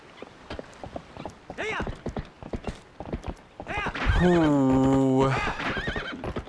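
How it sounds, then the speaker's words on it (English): A horse in the video game The Legend of Zelda: Twilight Princess gallops with steady clip-clop hoofbeats, then gives a loud, drawn-out neigh near the end. A brief vocal exclamation sits among the hooves. "Let's get our horse again."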